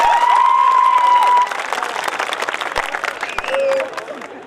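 Audience clapping and cheering at a poetry gathering, a burst of applause under an amplified voice with whistle-like tones, thinning out toward the end.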